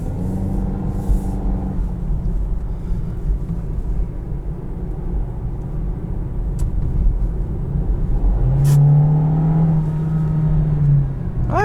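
A 2021 Volkswagen Jetta SE with automatic transmission at full throttle, its engine note rising steadily from inside the cabin, then easing off and climbing again in a second pull, fairly loud and without speech.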